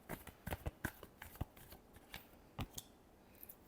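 Tarot cards are shuffled up close in a series of soft, papery riffles and taps. The brisk bursts come unevenly, with a brief lull near the end and no talking.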